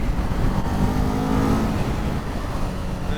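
A 2023 Kawasaki Z400 motorcycle engine revving high and steady, a loud buzzing drone that holds close by for a few seconds with only slight dips in pitch.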